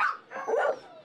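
Shelter dogs arriving by truck from Alabama give a short, close bark followed by a whiny yip, loud and alone for about a second.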